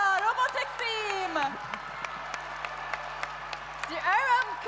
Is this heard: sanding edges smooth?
no